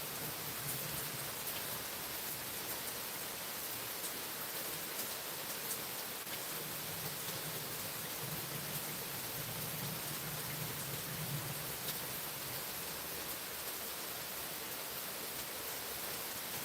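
Steady, even rain pours down as a constant hiss on a rainy Sunday morning, with a faint low rumble now and then underneath and no voices.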